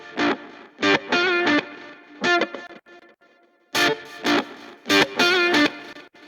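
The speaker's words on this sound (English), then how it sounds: "I've got more harmonic distortion" A music mix with heavy harmonic distortion plays as gritty, buzzy bursts of chords and notes separated by short gaps, loud and close with no talking.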